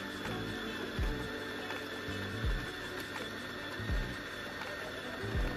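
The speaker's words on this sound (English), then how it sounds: "Place the portafilter on the holder to start grinding." Gemilai Molight G9010B espresso grinder running steadily as it grinds lightly roasted espresso beans into a portafilter, a continuous close mechanical whir with a faint periodic clunk repeating roughly every second and a half.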